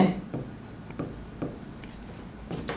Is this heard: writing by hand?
yes